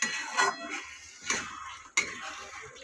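A spoon scrapes and clinks in a pan while a spice paste of onion, green chili, tomato and cumin is stirred with salt, turmeric and chili powder, three distinct scraping strokes with soft sizzle between.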